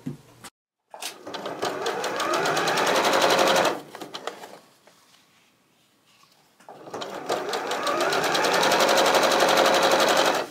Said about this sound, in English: So I'm going to sew the top and the bottom ones on first, and then I'll come back and sew the side ones on.